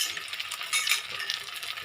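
Spices, turmeric, ground cumin, ground coriander and garam masala, stirred into banana flower frying in a pan, giving close, bright sizzling with scraping strokes of a utensil in quick uneven bursts.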